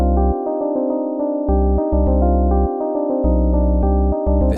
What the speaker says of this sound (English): you want to start with a really clean bass sound like this.